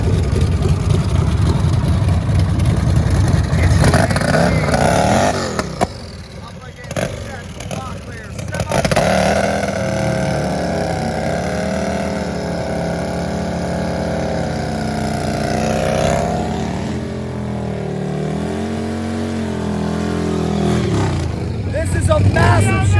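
Turbo motorcycles at a drag racing event roar loudly with rising and falling engine pitch, revving and accelerating through the whole stretch, with crowd and announcer noise mixed into the din.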